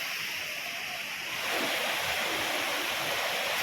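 Water rushes steadily through a forest stream near Vadattupara waterfall in Kothamangalam, a broad hissing flow that grows a little louder partway through, continuous and close with no voices.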